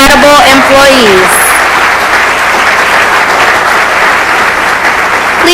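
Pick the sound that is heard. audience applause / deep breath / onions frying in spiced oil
audience applause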